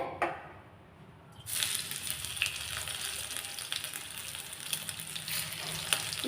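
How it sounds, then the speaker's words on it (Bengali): Semolina-coated bangda fish slipped into hot oil for Marathi-style frying: a brief quiet pause, then a sudden loud, steady hiss of frying with occasional spatters that continues to the end. "দেখুন তেল গরম হয়ে গেছে এবার আমি মাছটাকে ছেড়ে দিচ্ছি এইভাবে"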